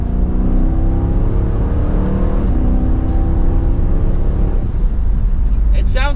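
A 2023 Dodge Durango R/T with the Hemi V8 accelerates hard in third gear, its loud, steady engine drone filling the clip as the pitch climbs slightly, with a faint chirp near the end.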